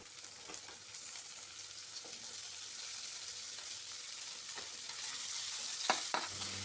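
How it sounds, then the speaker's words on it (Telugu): Chopped ivy gourd fries in oil with ginger and turmeric, giving a quiet, continuous sizzle with occasional soft taps and scrapes of a spoon stirring the pan. "దొండకాయలు వేసుకొని కలుపుకోవాలండి"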